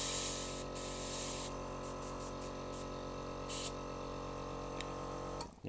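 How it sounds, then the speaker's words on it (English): An airbrush sprays paint for a glow effect in short hissing bursts over the steady low hum of a running compressor, close and fairly quiet, with no one talking. "That's wait for the compressor to stop."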